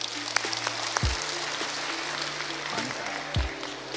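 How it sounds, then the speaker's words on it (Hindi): Steady applause from a group of people fills the whole stretch, an even, dense patter of clapping without pause. "जोरदार तालियां, आप बैठ सकते हैं।"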